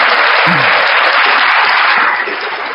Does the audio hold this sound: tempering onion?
no